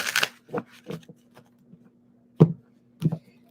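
Tarot cards being shuffled by hand, a quick crisp riffle followed by several short soft taps and slaps of the deck, close and quiet with a faint steady hum underneath.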